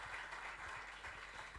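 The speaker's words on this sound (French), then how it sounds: "Applaudissez pendant qu'elle approche." A congregation at a church service applauds steadily while a guest preacher comes forward, a soft, continuous patter of clapping that is faint and distant.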